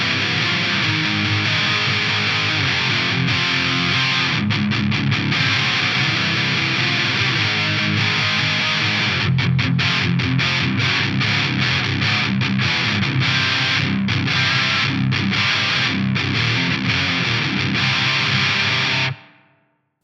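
Electric guitar through a Yamaha DG-1000 preamp set for heavy distortion, dense saturated riffs with palm-muted chugs and abrupt rhythmic breaks, loud and continuous before cutting off at the end.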